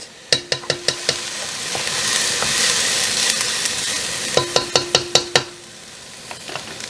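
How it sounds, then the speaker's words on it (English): Ingredients for spaghetti sauce, onions in a pan, sauteing over medium-high heat, giving a steady close sizzle and frying hiss with bursts of sharp clicks and taps from stirring near the start and end. "I'm sauteing these over a medium-high heat."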